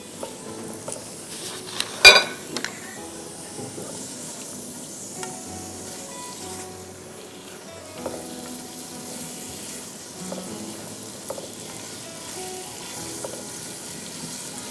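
Ingredients frying in a pan until golden give a steady moderate sizzle, broken by a sharp clink and occasional stirring and scraping sounds.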